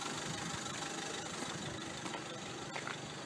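A Vauxhall Zafira diesel engine settles back to a steady idle after a forced DPF regeneration, a low, faint rumbling tick-over with slight knocking texture, heard alone without talk.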